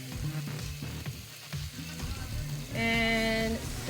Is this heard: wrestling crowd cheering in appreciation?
no